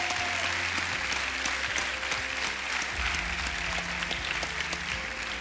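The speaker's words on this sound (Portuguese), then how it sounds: "quero pedir um grande, grande aplauso para eles" Studio audience applause at a The Voice Portugal battle round, steady and dense throughout, with a low musical hum and tones sitting beneath the clapping.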